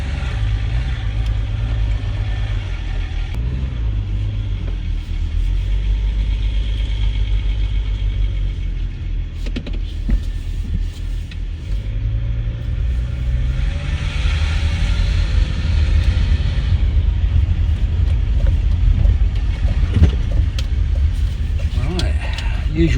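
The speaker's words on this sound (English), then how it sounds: "put the wheels back on and take it for a little test drive" Tonga Green Range Rover L322 engine humming steadily from inside the cabin on a winding country-lane test drive in Wales, with low drone, rattles and clicks, and someone talking at times.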